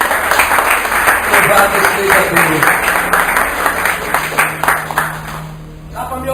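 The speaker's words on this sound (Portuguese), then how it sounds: "Aplauda o Senhor agora." A church congregation claps in a brisk rhythmic burst during a worship service, close and lively, while a voice speaks over it. The clapping thins out toward the end.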